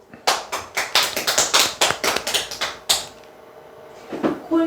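Audience applause after a talk on insurance and telemarketing sales, a quick flurry of sharp, close claps for about three seconds, then a quiet pause and a few more claps near the end.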